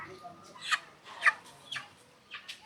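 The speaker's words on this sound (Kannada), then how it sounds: "ನೋಡಿ ಗೈಸ್, ಕೋಳಿ" A village chicken clucks in short, sharp bursts, about five spaced calls, moderately close amid quiet outdoor background.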